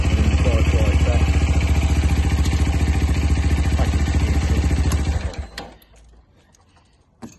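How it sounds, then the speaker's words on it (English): A Sinnis Terrain 125cc Euro5 motorcycle engine running close and loud with the clutch engaged, a buzzing, rattly idle that fades out after about five seconds, leaving near silence and one faint click. "As soon as I touch the clutch, we're in, and then the bike rides back."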